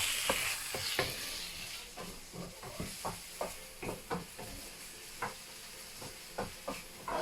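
Tomatoes frying in a pan, a steady sizzle with a bed of hiss and repeated scraping stirs clattering in an uneven rhythm, close up and fairly loud.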